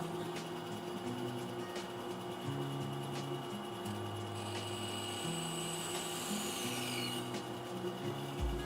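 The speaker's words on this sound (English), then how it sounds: "We're back at the bandsaw real quick. Let me trim these pieces off here" A bandsaw trims pieces of wood in a workshop making blanks, a steady mechanical hum with shifting tones as each cut is made, continuous and fairly close, with no talking.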